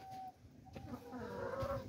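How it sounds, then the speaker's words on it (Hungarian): Hens cluck softly and intermittently on a farm, faint and fairly distant, with low outdoor background noise. "De a tyúkok is itt vannak közben. Ők is itt krákognak."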